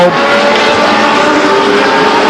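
Race car roaring past at Stockton 99 Speedway in 1999: a loud, sustained engine howl, close and dense, filling the whole short moment with no speech.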